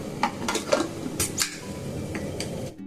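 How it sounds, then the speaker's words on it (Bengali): Poppy seed paste is ground by hand together with cashews and raisins, producing close, sharp scraping and clacking strokes in an uneven rhythm at moderate loudness, with no voices. "ওর সাথে আমি দিয়ে দেবো কয়েকটা কিশমিশ আর চারটে কাজু এবার দেখুন আবার একসাথে বেটে নেব"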